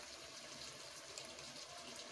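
Hot water pours steadily onto uncooked rice in a home kitchen pot, a continuous close gushing and splashing that lasts the whole moment without any talk.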